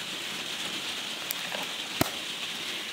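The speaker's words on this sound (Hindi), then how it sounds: "क्योंकि बारिश हो रही है, आपको आवाज़ आ रही है।" Rain falls steadily outside a house, a soft continuous patter with a few sharper drips and taps rising above it.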